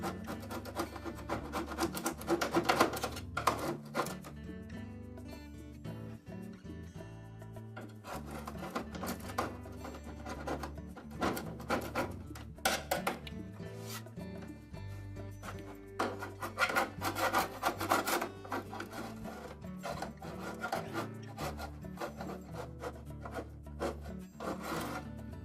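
Scraping old front-seal glue residue off a Frigidaire dryer drum, with repeated rough, rasping strokes in uneven bursts, close and fairly loud, no speech.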